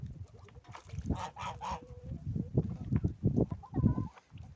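Old and young domestic ducks quack and chatter close by, a busy stream of nasal calls overlapping one another with a few louder honks mixed in.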